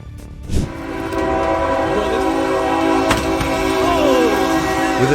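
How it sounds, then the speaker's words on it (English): A passenger train running between Leiden and The Hague in the Netherlands roars loudly and close by, its horn sounding a long, sustained blast over the rumble of the rails. "With a deafening roar, the train plowed into the helpless car"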